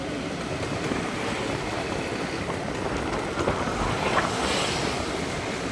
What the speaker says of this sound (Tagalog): Parang may problema sa motor ko. Ang ingay na sa harapan.